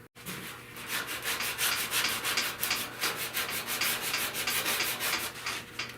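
Hand sanding of a 1970 Buick Wildcat fender, rapid rhythmic back-and-forth rasping strokes, loud and close, steady throughout with no talking.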